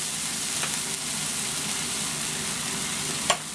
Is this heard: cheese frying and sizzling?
yes